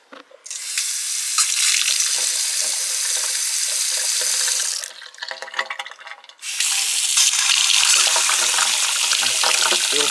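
Water gushes steadily from a pedestal sink faucet, pauses briefly with some clinking, then the strong flow resumes, close and loud.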